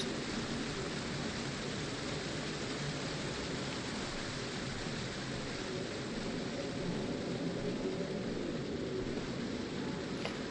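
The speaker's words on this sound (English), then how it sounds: "I hope rain doesn't count." Steady, dense rain hiss from the video game Fatal Frame 5: Maiden of Black Water, a constant broadband wash that stays even and fairly loud for the full stretch with no voices.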